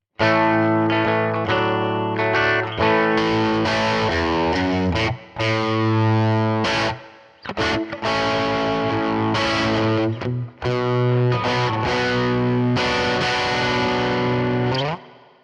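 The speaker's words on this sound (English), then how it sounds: "here's the clean going in to our crunch sound or our overdrive" Crunchy overdriven electric guitar playing chords and riffs in a country style, amp modeler running hot into a Princeton amp, loud and continuous with brief pauses, warm saturated distortion throughout.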